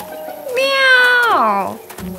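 A person's voice imitates a cat with one drawn-out meow, rising then sliding down, close and clear with a faint background hum.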